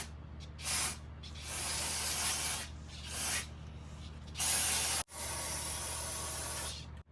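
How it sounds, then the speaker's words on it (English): Aerosol cleaner hisses in several long bursts onto the outside of a lawn mower carburetor, close and loud, with short pauses and a brief clatter between sprays. "just spray the whole thing on the outside down to try to knock the loose dirt off of it"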